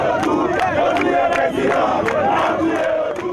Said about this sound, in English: an angry crowd gathered, demanding the suspects be turned over to them